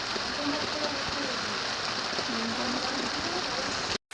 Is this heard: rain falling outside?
yes